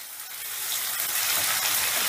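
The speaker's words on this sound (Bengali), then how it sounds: "এবারে গ্যাসের আঁচটা মিডিয়ামে রেখে পেঁয়াজটাকে আমি হালকা লাল করে ভেজে নেব" Onions frying over medium heat in a pan, a steady hissing sizzle that swells slightly and continues evenly, with faint stirring and no talk.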